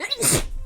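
A single wet sneeze, loud and close, a sharp explosive burst with a splattering spray that fades quickly, heard on its own.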